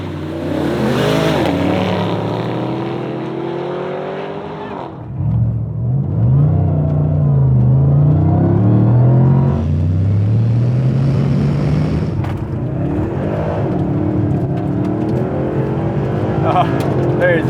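Mercedes-Benz SLS AMG and SLR McLaren launch in a drag race, a loud engine roar rising in pitch through the gears, with voices talking over the run throughout.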